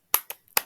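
Children in a classroom do a rhythmic clap chant, heard as three sharp, close hand claps in quick succession with a faint softer tap between them.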